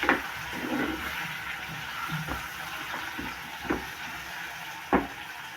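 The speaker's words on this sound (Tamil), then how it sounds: "போட்டு அதையும் கொஞ்சம் நேரம் வதங்க விடுவோம்." Tomato sautéing gently in a pan over a low flame, a soft continuous sizzle with occasional stirring knocks and scrapes, close and moderate in level, no talking.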